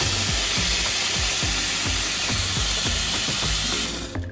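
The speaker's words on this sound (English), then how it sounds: "it's a heat exchanger with a really quiet rotary pump. So you just want to hear this in operation." ECM Mechanika Max heat-exchanger espresso machine running on its quiet rotary pump, a steady broadband whir with a faint regular pulsing throughout, close and continuous before cutting off at the end.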